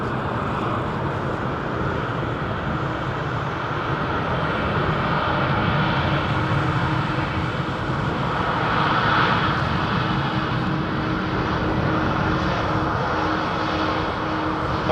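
A heavy jet airliner arriving at London Heathrow Airport roars steadily overhead, a broad, loud rumble that swells slightly and holds for the whole stretch.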